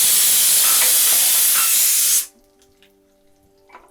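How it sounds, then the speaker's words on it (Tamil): Dried red chillies for a tamarind curry fry in hot oil, a loud, dense sizzling hiss that runs steadily for about two seconds and then cuts off abruptly, leaving near silence with faint kitchen clicks. "இது வறுபடும் போது"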